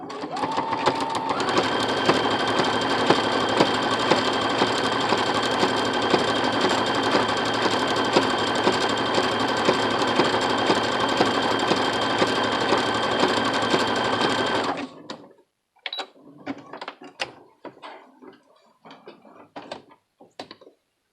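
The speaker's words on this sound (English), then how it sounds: "And then just start sewing." A sewing machine stitches with a presser foot fitted, running as a loud, continuous mechanical whir for about fourteen seconds, then stops and gives way to scattered clicks and handling noises.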